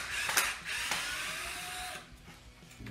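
Screws being unscrewed on a Ridgid shop vac, giving a steady grinding, creaking mechanical rasp with a couple of sharp clicks near the start, close and alone without speech.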